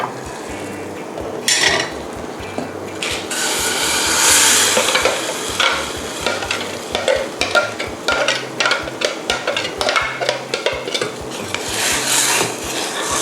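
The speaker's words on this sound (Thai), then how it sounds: "จะต้องคนนะคะให้ เข้ากันดีกับน้ำกะทิที่มีอยู่ในหม้อนะคะ" A fish curry mixture being stirred into coconut milk in a cooking pot for Thai fish curry noodle sauce, giving steady scraping and rubbing strokes that repeat close up, with a faint background hum.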